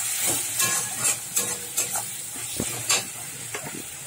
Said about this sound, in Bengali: দিয়ে এবারে ভালো করে আমি কষে নেবো মশলাটা